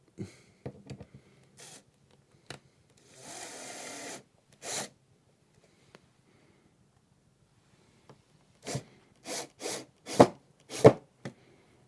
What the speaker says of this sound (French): Ensuite on positionne la vis dans le trou préforé. Et maintenant on peut visser.